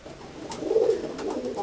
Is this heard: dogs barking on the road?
no